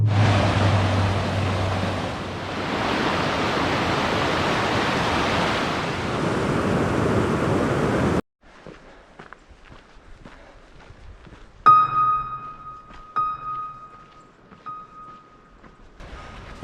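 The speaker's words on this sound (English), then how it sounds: "I can hear the water starting to roar. We're getting close to Fern Falls." Rushing waterfall roar near Fern Falls on the Fern Lake Trail in Rocky Mountain National Park: a loud, steady broadband rumble for about eight seconds, then a cut to quieter trail sounds with scattered footsteps and a brief tone.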